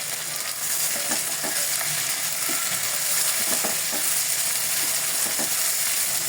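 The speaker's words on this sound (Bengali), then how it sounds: "তো এই উপকরণগুলো একটু ভেজে তারপরে শুকনো উপকরণগুলো অ্যাড করব" Ginger and garlic paste, previously frozen, frying with tomatoes in a pan while cooking snakehead fish. A continuous close sizzle runs throughout, broken by light intermittent clicks of a stirring utensil.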